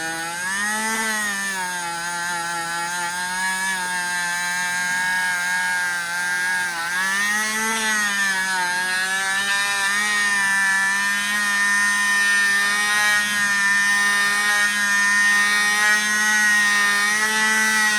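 A Dremel rotary tool polishing with white jeweler's rouge buffing compound gives a steady high-pitched motor whine with a strong harmonic hum. It runs continuously and close by, with a slight pitch dip partway through and no voices.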